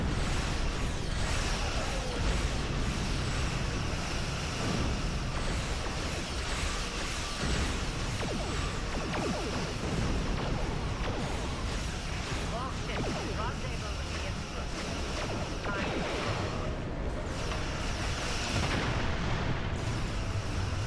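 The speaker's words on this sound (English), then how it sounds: "Your ship has dealt 1 million torpedo damage." A starship fires torpedoes in the space combat game Star Trek Online, a dense, continuous barrage of booming blasts and whooshes that stays loud and unbroken, with a voice talking over the game sound.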